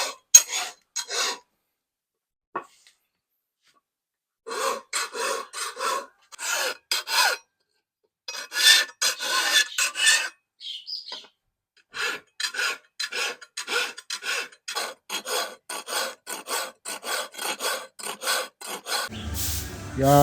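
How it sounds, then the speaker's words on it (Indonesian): Coarse file rasping on a steel selorok fitting for a Balinese keris, in steady bursts of back-and-forth strokes with short pauses between runs, close and fairly loud, no voices. "Jadi pelan-pelan dikikir pakai kikir kasar ya."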